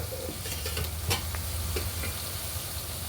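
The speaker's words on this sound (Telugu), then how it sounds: "ఆనియన్స్ ఫ్రై అవుతుందండి" Onions fry in a pan for a Kadapa-style fish biryani. A steady close sizzle runs throughout, broken by a few scraping stirs of a spoon.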